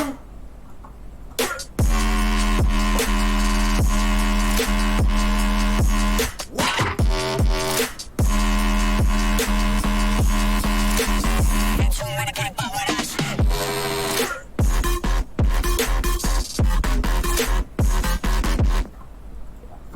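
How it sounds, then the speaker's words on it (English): Synth lead built from a Serum patch with shifting phase, loud sustained buzzy notes in repeated phrases, broken by short gaps and choppy stabs toward the end. "it's like more or less the same as that first lead, but just like continuing to fuck with the phase on the serum patch itself"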